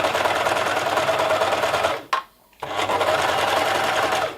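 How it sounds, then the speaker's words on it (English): A Singer 14SH654 overlock machine runs close by, sewing a chain stitch with a fast, even mechanical whir that stops briefly for half a second and then starts up again just as steadily. "when I'll start sewing, it should do the little chain"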